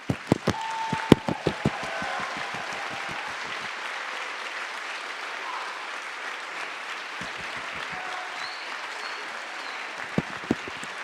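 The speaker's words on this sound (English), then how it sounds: "How about a round of applause?" Audience at a school music awards night clapping for students nominated for instrumental awards; a burst of close, sharp claps swells into steady applause, dips in the middle, then picks up again with a few loud claps near the end.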